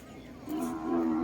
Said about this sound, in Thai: ตอนนี้กำลังเดินทางเข้ามาหา ตลาดควายนะครับเนาะ